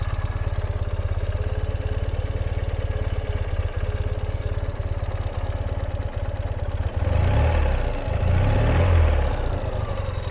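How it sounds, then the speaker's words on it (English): A 2017 Ural Patrol motorcycle engine idles smoothly and steadily up close after a cold start, with a brief swell in loudness near the end before settling back. "So we can hear it idling very happily, and that was a cold start."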